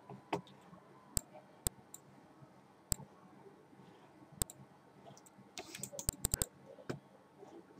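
Computer keyboard keys are pressed while working in Adobe Photoshop, making sparse, sharp clicks: single taps spaced out at first, then a quick cluster of several presses near the end, fairly close over a quiet background without talk.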